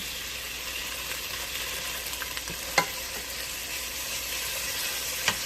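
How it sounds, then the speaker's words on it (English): Food in a pot on the stove sizzles softly while being stirred quickly, with a couple of sharp clinks of utensil on metal over the steady hiss. "And then stir it quickly."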